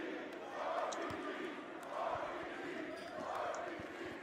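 A massive wrestling crowd at a JCW Lunacy StrangleMania event roars and cheers in a steady, swelling wash of noise, with a commentator's voice running over it.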